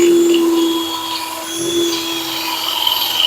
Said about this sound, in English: So I have a 1-inch Forstner bit.